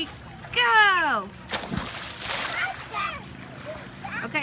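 A child's cannonball jump into a cold pool or lake, a single splash following an excited voice, with people talking around it outdoors.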